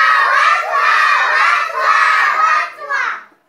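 A group of children loudly imitate a lion's roar with their voices during a classroom story-acting session, a sustained shouted roar lasting about three seconds before tapering off.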